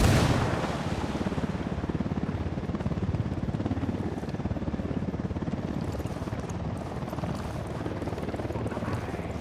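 Dense gunfire in the Ghost Recon Wildlands video game rattles on in a rapid, continuous stream after an opening grenade blast, loud and sustained throughout, with voices mixed in.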